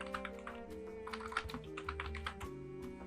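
Computer keyboard keys clatter in quick irregular bursts while Java code is typed, close and fairly soft, layered over a steady background hum and faint tones.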